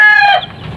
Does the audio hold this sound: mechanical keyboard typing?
no